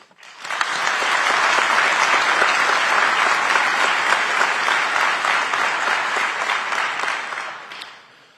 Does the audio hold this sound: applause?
yes